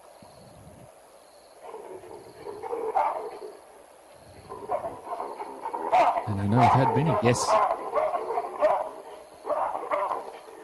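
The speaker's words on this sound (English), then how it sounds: "I just love that baboon call, though. It's such a typical African sound." Baboon calls in the African bush at night, harsh barking cries that rise now and then, partly under someone talking.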